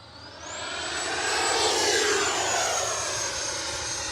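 An FMS J-11 twin 70mm EDF model jet makes a pass overhead, a rising whining whoosh of ducted fans with a high tone that sweeps up, then a steady roar as it goes by, no talk.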